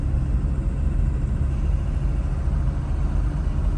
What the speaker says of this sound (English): Alright guys, we're driving the Benz.